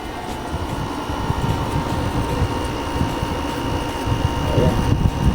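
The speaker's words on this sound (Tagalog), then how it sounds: "Ilapit mo para marinig na maandar yung compressor." Non-inverter air conditioner compressor running off a 1 kW, 24-volt solar battery and inverter setup, giving a loud, steady mechanical drone with a low rumble and faint hum, heard close up without a break.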